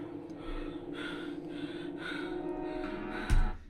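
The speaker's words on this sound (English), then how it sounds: "breathing heavily" Heavy breathing from a point-of-view shot in a 2006 home movie, a run of loud, rhythmic breaths and gasps over a low droning background, ending in one sharp, louder snort-like exhale.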